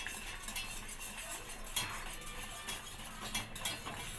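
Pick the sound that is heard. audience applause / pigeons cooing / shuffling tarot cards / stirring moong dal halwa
stirring moong dal halwa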